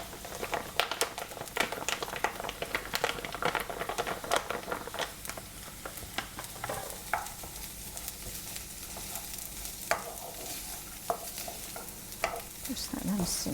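Puy lentils simmer and bubble in a pan, with steady soft sizzling and frequent stirring scrapes running throughout, close and moderately loud, with no talking.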